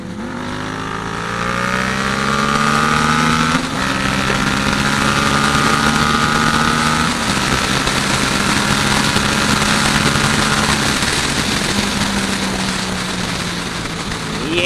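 Large 1000cc faired sport motorcycle riding just ahead, heard from a following bike as a steady, loud engine drone with rising and falling revs through gear changes, accompanied by strong wind rush over roughly fifteen seconds.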